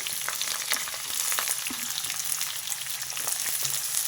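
Chopped onions with curry leaves frying in oil, a dense, even crackling sizzle close by, with faint stirring knocks underneath.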